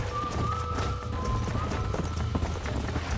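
Horses gallop in the video game Red Dead Redemption: rapid, continuous hoof clip-clop at close range, with a faint sustained tone running beneath the pounding hooves.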